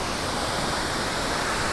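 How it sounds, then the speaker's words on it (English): Waterfall on the Big Beaver Trail roaring steadily, a dense broadband rush of falling water that fills the scene evenly without pause. "So I think I can get the entire waterfall."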